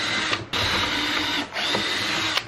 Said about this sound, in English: I'm going to be using a drill with a drill bit that is slightly smaller than the screws I'm going to be using.